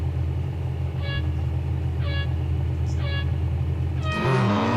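An Acura NSX GT3 race car in Real Racing 3 holds a steady engine drone, with several short tones repeating about once a second and a rising rev at the end.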